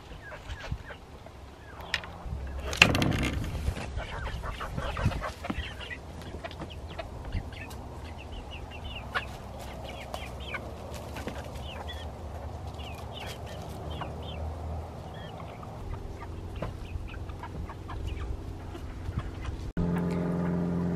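Chickens being released into a fresh paddock, with clucks and rooster-like calls scattered over a steady outdoor background, plus a brief louder knock near the start.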